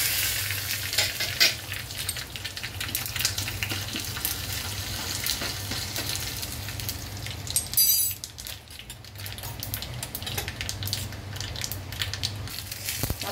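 Asafoetida, a green chili, curry leaves and urad dal sizzle and crackle steadily as they are tempered in hot oil, a continuous frying hiss with brief stirring clatters near the middle, close and fairly quiet with no talking.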